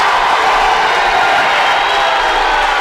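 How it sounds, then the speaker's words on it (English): A high school crowd roars after a basket at a varsity boys basketball game in a gym, a loud, steady wash of cheering and yelling that holds for the whole stretch. "There's the crowd."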